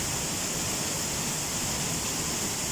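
A waterfall roars in a steady, loud, unbroken wash of broadband water noise, close by with no voices over it.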